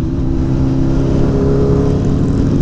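A Harley cruiser motorcycle rumbles steadily past at close range, its loud, continuous engine drone holding even throughout with no talking.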